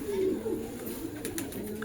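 A blue-shaded pigeon in an Allahabad pigeon-keeping setting gives low, rolling coos, close and steady, with faint background voices and ambient noise.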